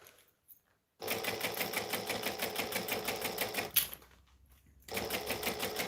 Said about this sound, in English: So I'm just stitching 1/8 of an inch from the edge